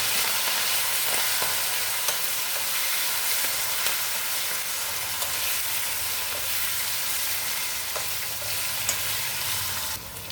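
Green chillies, curry leaves and coriander fry in a pan as tempering for a raw banana chutney, giving a steady, dense sizzle and crackle that holds close and loud for the whole stretch, with no talk over it.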